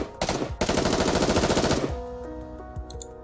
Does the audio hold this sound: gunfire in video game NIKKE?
yes